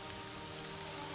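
Rain falls in the video game The Elder Scrolls III: Morrowind as a steady, dense hiss of droplets that holds an even level throughout, with no voices over it.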